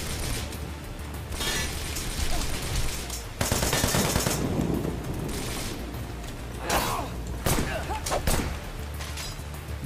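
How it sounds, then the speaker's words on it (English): Rapid gunfire from the VR shooter Wanted Dead VR as an enemy is shot down, with dense bursts of shots and heavy impacts repeating loudly across the whole stretch. "Just gotta shoot him in the feet."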